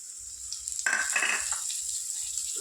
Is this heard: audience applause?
no